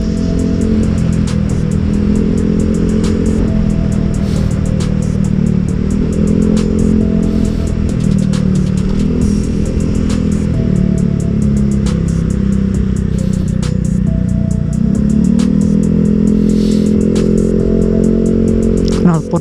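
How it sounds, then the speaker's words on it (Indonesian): Motorcycle with a loud aftermarket exhaust, heard while riding near Kuta, Bali, as a steady, continuous engine drone with revving swells close by and no talk over it. "Knalpot gua ribut banget rasanya anjir, beda banget gua pada saat gua pakai knalpot ori."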